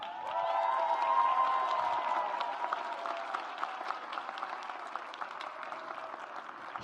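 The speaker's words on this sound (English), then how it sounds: "please feel free to applaud" An audience at a graduation celebration applauds steadily, a full, sustained clapping of a crowd that thins slightly over about seven seconds, with a faint voice underneath.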